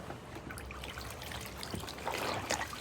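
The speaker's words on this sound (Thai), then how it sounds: "ตีให้ผงละลาย แล้วเราก็แช่ไว้อย่างนี้เลยนะคะ" Multipurpose bleach powder is stirred into a small amount of water to dissolve it, giving soft continuous sloshing and trickling close by, with a slightly busier swirl toward the end.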